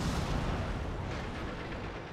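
The ELC AMX light tank fires its gun in World of Tanks, producing a loud, broadband blast that fills the opening moment and then trails off into a sustained rumbling roar.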